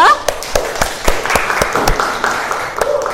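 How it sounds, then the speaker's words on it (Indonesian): Students in a madrasah classroom applaud a presenting group, a scattered run of close, uneven claps over a busy room background with some voices. "Mari kita tepuk tangan untuk kelompok 2."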